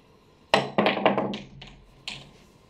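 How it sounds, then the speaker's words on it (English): Pool cue striking the cue ball for a jump shot, heard as a sharp close tap followed by a cluster of quick clacks and thunks as the balls bounce and land, then a last softer knock, without talk. "It's a really easy jump shot"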